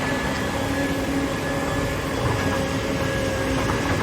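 A hydraulic excavator engine runs at a steady, loud drone while digging hard red soil, one of an IHI IS 200 and a Kobelco SK 200-8 working together; the heavy rumble stays even throughout, with no voices.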